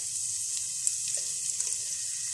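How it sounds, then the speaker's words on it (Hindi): Chopped carrots fry in butter in a pan for a creamy potato soup, a steady bright hiss of sizzling fat with occasional small pops, close and continuous. "थोड़ा सा गाजर को हम फ्राई करेंगे मक्खन के साथ।"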